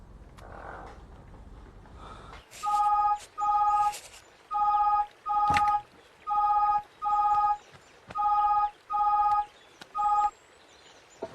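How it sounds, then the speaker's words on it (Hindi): A telephone number is dialed on a keypad, giving a run of about ten evenly spaced beep tones of a half second each. The tones are loud and clear after a short stretch of quiet background murmur. "और उस भोसड़ी वाले दुबे को फोन लगाओ, पता तो चले क्या चल रहा है।"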